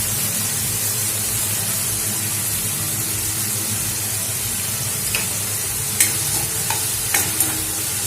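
Vegetables sauté in a pan for an Andhra bitter gourd curry, kakarakaya pulusu, making a loud, steady hiss of frying with a few sharp clicks near the end as they are stirred.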